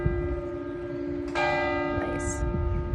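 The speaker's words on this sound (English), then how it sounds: "the old church bell. Gotta honor that. Top of the hour." An old church bell tolls at the top of the hour, a steady sustained ringing tone with a fresh strike partway through, heard under faint room noise.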